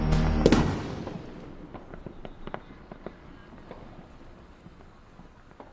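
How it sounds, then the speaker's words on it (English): A loud burst from a village fireworks display opens, then scattered crackling pops fade over several seconds into a quieter rumbling background. "Wasn't bad for village fireworks, was it?"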